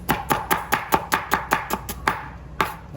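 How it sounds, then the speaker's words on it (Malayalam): A knife chops onions on a cutting board with about a dozen sharp, close, evenly spaced strikes, a brief pause near the end, then a few more cuts, with no talk. "ഞാൻ ഉള്ളി കട്ട് ചെയ്യുന്നുണ്ടാണ്ട്"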